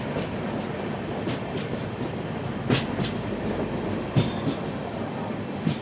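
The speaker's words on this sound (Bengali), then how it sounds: "ফাইনালি ব্যারেজ ক্রস করে ট্রেন এখন এগিয়ে চলেছে নিউ ফারাক্কা জংশনের দিকে" A Tebhaga Express with a new LHB rake runs steadily on the rails near New Farakka Junction, a constant rumbling roar with a few sharp wheel clanks and joint knocks over several seconds, heard from on board without voices.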